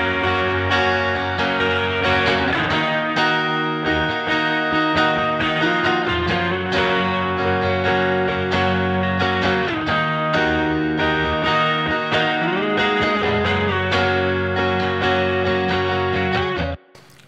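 Electric guitars and vocals in a dense mix washed in lush reverb from a Flamingo Verb plugin, sustained and continuous at full level for the whole stretch, cutting off abruptly at the very end.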